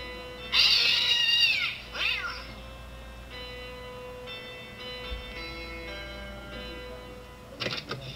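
A cat meows loudly and close at hand, giving a couple of sharp cries followed by quieter drawn-out calls over a faint humming background.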